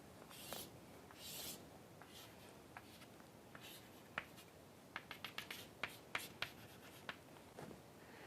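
A plot hand-drawn with a pen or marker during a lecture: soft, close scratchy strokes, then a quick run of short tapping and squeaking marks, faint against a quiet room without talking.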